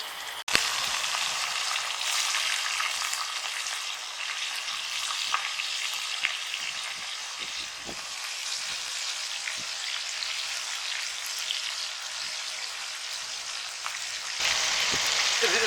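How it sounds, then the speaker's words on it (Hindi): Seekh kebabs frying in hot cooking oil give a dense, steady crackling sizzle close by, with a few small clicks, continuing unbroken for about fifteen seconds and swelling slightly louder near the end. "ये मेरा ऑयल गर्म हो गया, अब इसके अंदर हम डालते हैं।"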